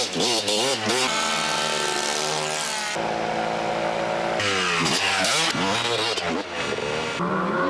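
A two-stroke engine runs and revs, its high buzzing note rising and falling in repeated throttle blips, loud and close, with someone talking over parts of it.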